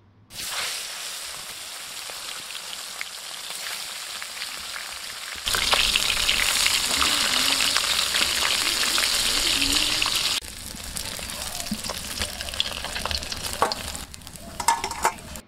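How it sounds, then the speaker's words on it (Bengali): Small pond fish fry in hot mustard oil in a wok, making a continuous loud crackling sizzle that swells sharply midway and then settles, with occasional stirring clinks. "তেল গরম হয়ে গেছে, মাছগুলো ভেজে নিচ্ছি।"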